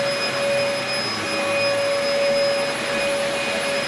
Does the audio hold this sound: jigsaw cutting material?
no